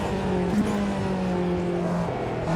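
Modded car engine in the racing sim Automobilista 2, a steady loud drone with a pitch that rises and dips slightly as the revs vary, heard alone and close throughout.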